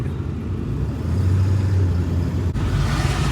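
A Ford 7.3 Powerstroke diesel truck out on a test drive, heard as a steady, loud low rumble that swells slightly partway through, with a brief click near the end.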